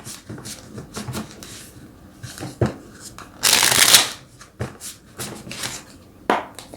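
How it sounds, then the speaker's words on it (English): A deck of tarot cards being shuffled up close, with bursts of riffling and sliding, a loud fluttering riffle in the middle and sharp taps, without speech. "let's get some cards from the universe to see what they would like to share"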